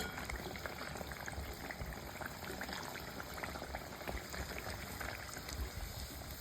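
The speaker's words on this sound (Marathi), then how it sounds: "वड़े आपण दोन्ही साईडने लाल खरपूस होईपर्यंत तळून घेणार आहे" Marathi fasting vadas deep fry in hot oil, a continuous bubbling crackle at an even level throughout, close but fairly quiet, with no voices.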